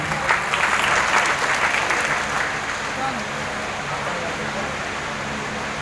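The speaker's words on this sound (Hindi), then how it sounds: "जबरदस्त ताली होना चाहिए" A large seated audience at a crowded business meeting claps loudly and continuously, the dense applause strongest at first and then holding at a slightly lower level to the end.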